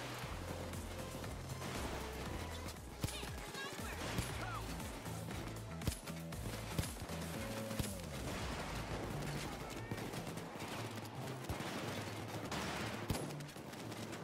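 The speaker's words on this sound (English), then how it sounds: "Oh, the sniper shots are vicious." In the video game Payday 2, sniper shots crack out as sharp isolated reports amid constant heavy gunfire and chaotic combat noise, fairly faint overall.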